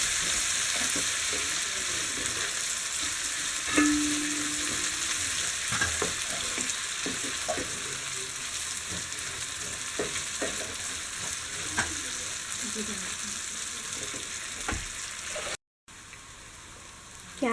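Chopped capsicum sautéing in a pan for cauliflower masala, a continuous oily sizzle with occasional spoon stirring and scraping, close and steady throughout, with a brief cut near the end.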